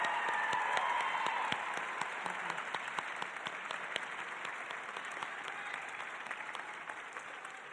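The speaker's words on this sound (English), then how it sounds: "let's give a round of applause for this superb human and the most amazing academic" An audience at the Belmont Academy Class of 2026 graduation ceremony applauds an academic advisor, producing sustained, dense clapping from a large crowd that starts strong and slowly tapers while staying steady throughout.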